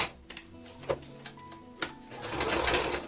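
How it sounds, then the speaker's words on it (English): A sewing machine straight-stitches Velcro onto fabric, clicking and ticking with a few sharp knocks before ramping into a loud, steady mechanical whir near the end. "simply stick it into the machine. And using a straight stitch, I'm just going to go around the 4 sides"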